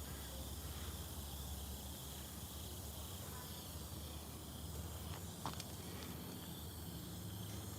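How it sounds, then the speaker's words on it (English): Faint, continuous chirping of crickets at night, a soft high-pitched trill over a low steady hum, with no voices. "Something peaceful about hearing crickets at night."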